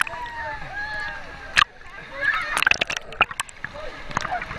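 Water-park rapids splash and slosh around riders at Aquatica, with bursts of spray and gurgling under excited voices.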